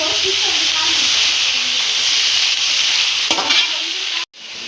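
Shredded cabbage with chopped tomato, panch phoron and bay leaf frying in hot oil in a wok, a loud steady sizzle with stirring scrapes, near and continuous, cutting off abruptly near the end.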